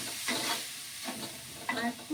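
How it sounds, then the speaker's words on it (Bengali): Masala spice paste sizzling and frying in a pan after water is added, with short bursts of hissing and stirring scrapes rising and falling in quick, close succession. "জল দিয়ে আমি এখন মশলাটাকে একটু কষবো।"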